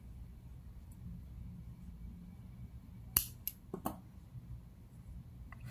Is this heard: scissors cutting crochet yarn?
yes